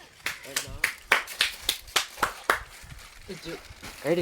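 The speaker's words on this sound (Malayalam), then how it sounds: "ചുമ്മാ കൈയടിച്ചോണ്ടിരിക്കോ" Several sharp hand claps in an irregular rhythm, close and fairly loud, with voices talking over and after them.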